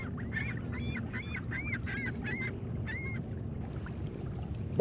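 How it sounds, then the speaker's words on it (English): A string of repeated honking bird calls, goose-like, in a rapid rhythmic series over a low rumbling background, moderately distant, at Barr Lake, Colorado. "There's birds all around me."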